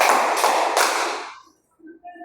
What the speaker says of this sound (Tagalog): Bigyan nga natin siya ng 3 palakpak.